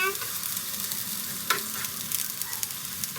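Sliced onions fry in a hot pan with a steady, close hiss of sizzling oil, broken by occasional scrapes and light knocks from stirring.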